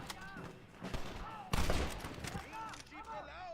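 A sniper rifle fires in the video game Red Dead Redemption, one loud booming shot cutting through ongoing game noise and voices, followed by lingering rumble.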